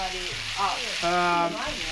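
Meat sizzles and crackles steadily on a hot convex Hokkaido barbecue pan, a dense hiss with brief tonal squeals layered over it, close and fairly loud.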